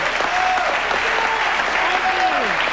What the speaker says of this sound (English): would you please applaud Miss Brenda Lee